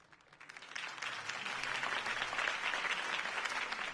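Crowd applause rises after a mayoral campaign speech by Harvey Dent in a Batman Telltale game scene, swelling quickly from a few claps into sustained, dense clapping from a large audience at moderate distance.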